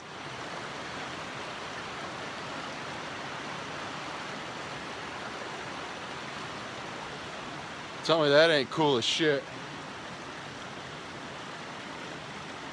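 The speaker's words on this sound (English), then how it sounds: "Got the sound of the river to fall asleep to tonight" A river in Linville Gorge flows at night with a steady, close rushing hiss that fills the whole clip, while someone speaks briefly near the end.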